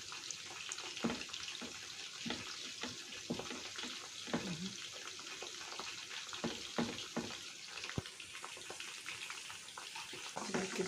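Chicken liver sautéing with onion in a pan, a faint, steady sizzle broken by scattered utensil clicks and stirring scrapes, with no one talking.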